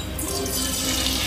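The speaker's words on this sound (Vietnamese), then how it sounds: "Bây giờ sẽ đổ nước mắm vô." Fish sauce pouring into a frying pan full of hot oil, a brief continuous hissing, sizzling rush that grows brighter as the liquid hits the oil.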